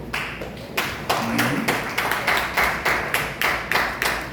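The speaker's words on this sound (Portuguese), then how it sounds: "Os que estão só agora, dê um aplauso, por favor" Congregation at a church couples' seminar claps in response to a call from the front, a fairly regular series of distinct claps, moderately loud, with a voice briefly under them.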